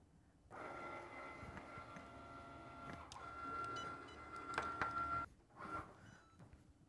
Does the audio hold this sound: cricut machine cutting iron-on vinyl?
yes